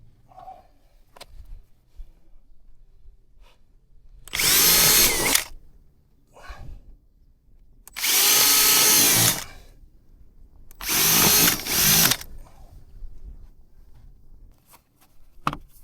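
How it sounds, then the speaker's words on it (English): A power drill drills bolt holes in three separate bursts of a second or so each, with quiet pauses and light handling noises between them. "Let's drill them out and then bolt them down with this steel"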